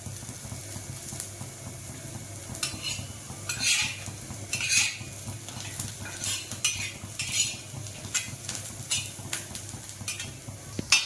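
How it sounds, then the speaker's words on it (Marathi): Onions browning in a pan for a mutton kala rassa, with a low continuous sizzle under repeated close spoon scrapes and clinks against the pan. "कांदा चांगला ब्राऊन होऊन द्यायचा आहे."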